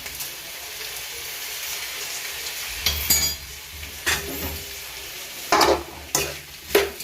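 A spoon stirs boiled potatoes and sugar in a pan for a vada pav filling, giving soft faint scraping and a few sharper clinks against the metal at irregular intervals, with no talking.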